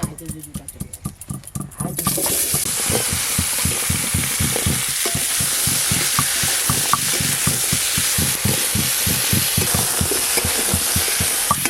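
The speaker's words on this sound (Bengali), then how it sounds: "প্রথমে কুমড়ো আর আলুগুলো একটু ভালো করে ভেজে" Pumpkin and potato pieces frying in a pan, a steady loud sizzle with rapid rhythmic stirring strokes scraping through it, after a brief quieter start.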